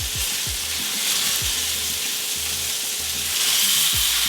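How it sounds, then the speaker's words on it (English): Beef fillet searing in a hot pan, a steady loud sizzle and crackle of frying with recurring low thumps as the meat and pan are moved, no voices. "once we sear it all on one side, we're gonna take it off the heat and let it rest"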